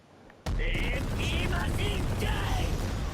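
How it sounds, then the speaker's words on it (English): Bakugo's AP Machine Gun skill in a video game erupts suddenly into a dense, sustained barrage of rapid mechanical firing with whining tones layered over it, loud and continuous to the end. "Now into Bakugo's first skill, which is AP Machine Gun."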